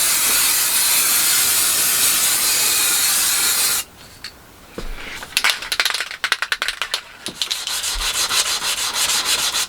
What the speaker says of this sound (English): just sanding the primer filler down